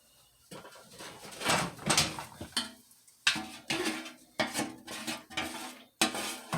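A spoon scrapes and clinks against a baking dish while spreading sauce over baked turmeric and garlic chicken, coming as a series of irregular close scrapes and taps with brief pauses between them.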